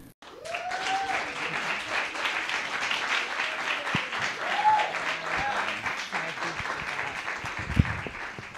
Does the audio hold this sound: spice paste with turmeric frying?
no